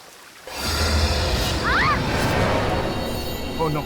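A dangerous waterfall rushes in a loud, steady wash of broadband noise that fills the scene after a brief quieter opening. Faint voices and brief chirps sit underneath.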